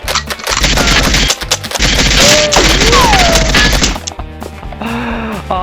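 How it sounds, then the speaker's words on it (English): A Nerf Rukkus blaster slam-fires Accustrike slugs in quick, uneven bursts of loud clattering pops and whacks, close to the listener, with a few squeaky tones and a brief quieter stretch near the end. "Slam fire is just so unreliable on this blaster, it's unreal."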